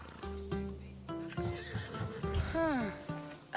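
A horse whinnies with rising and falling pitch over a few hooves clip-clopping in Assassin's Creed Odyssey gameplay, with game voices speaking and soft ambience around it.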